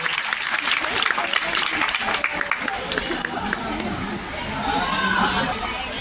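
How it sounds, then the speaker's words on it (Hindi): Audience applause at a school farewell program, a broad wash of clapping mixed with chatter and crowd babble, rising again toward the end. "तालियां बजाएं हौसला अफजाई के लिए।"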